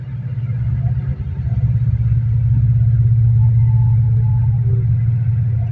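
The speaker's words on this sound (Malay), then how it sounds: "Kereta bersusun." Cars queued bumper to bumper on a town road leading to the district council building before Hari Raya, a steady low engine rumble idling close by with no voices.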